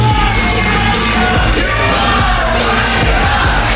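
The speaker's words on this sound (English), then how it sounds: "Crowd getting their wanker chants out early" Wrestling show crowd chanting and yelling in an arena, a loud, continuous roar of many voices with rhythmic shouted chants and whoops, heard close and filling the space.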